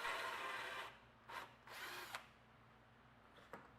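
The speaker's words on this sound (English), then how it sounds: "1/2-inch holes are drilled at the 4 corners on the underside of the base" A power drill bores half-inch holes into the wooden base of a dressing mirror: a loud, close whirring run lasting about a second, followed by a few shorter bursts of drilling.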